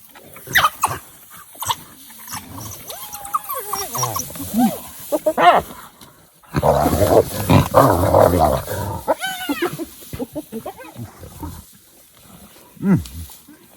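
Hyenas and wild dogs squabbling over a kill nearby: growls, whoops and snarls in irregular bursts, with rustling and scuffling between outbursts.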